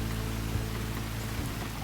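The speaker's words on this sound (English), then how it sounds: "I think I felt a raindrop just now, which is probably our cue to head inside." Steady rain falls in a visual novel game, a continuous even hiss of drops on surfaces with a low constant hum beneath, no voices.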